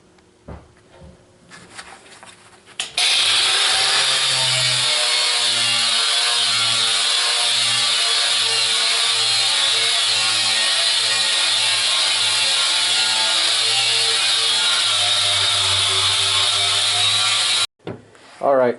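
A Harbor Freight 4-1/2 inch angle grinder fitted with a 40 grit flap disc runs loud and steady for about fifteen seconds with a constant whine, starting and stopping abruptly, and a voice can be heard faintly beforehand.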